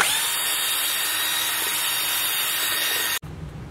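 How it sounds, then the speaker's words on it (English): A power drill fitted with a mixing wand runs steadily at high speed for about three seconds, loud and close, mixing drywall joint compound, then cuts off abruptly. "you got to have a drill and a mixing wand"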